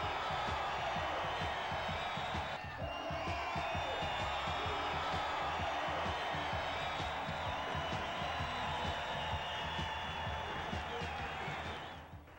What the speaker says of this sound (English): The crowd was ecstatic.